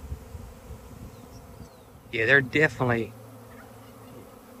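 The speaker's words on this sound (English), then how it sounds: "if you look to the sky, you can see fewer bees in the air." Bees buzz steadily around a farm hive, a continuous insect drone under the whole stretch, while a person talks briefly in the middle.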